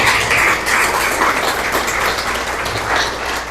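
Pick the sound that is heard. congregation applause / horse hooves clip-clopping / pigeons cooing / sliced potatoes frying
congregation applause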